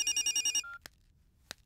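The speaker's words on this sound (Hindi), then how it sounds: "फोन।" A telephone ringtone trills in a quick, loud repeating burst, then cuts off, followed by quiet with two brief clicks.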